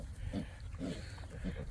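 Pigs on a farm, one chewing at a wire fence, give three low grunting bursts spaced about half a second apart over steady background noise, with no talk.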